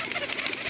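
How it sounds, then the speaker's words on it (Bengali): Pigeons coo nearby in a short, soft, continuous murmur, with no talking. "এখানে আমার কবুতরগুলো"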